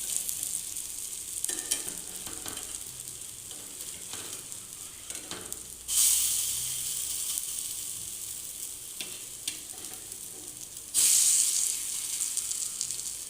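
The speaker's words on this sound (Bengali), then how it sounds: "এবার একদম কম তেলে হালকা করে আস্তে ধীরে সুন্দর করে এটাকে ভেজে নিতে হবে" Bora frying gently in a little oil, a continuous soft sizzle throughout, with two brighter bursts of crackling where more batter meets the pan and faint clinks of stirring.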